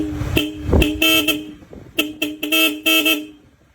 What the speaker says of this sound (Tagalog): So sound check tayo sa Sager horn.